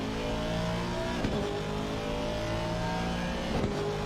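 GT3 race car engines in Assetto Corsa Competizione, including a Bentley, roar steadily as the cars roll on the throttle out of the Zolder hairpin, a continuous loud droning with layered engine tones.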